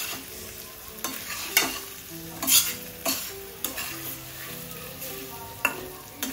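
Beaten eggs with Schezwan sauce stirred by a spoon, giving a busy wet sizzling hiss broken by several sharp clinks against the vessel, close and without talk.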